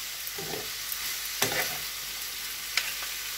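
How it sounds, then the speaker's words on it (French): Lamb samosa filling stirred in a dry frying pan without water, giving a steady frying hiss with a few spatula scrapes and knocks, close by, with no talking. "Donc là, je mélange."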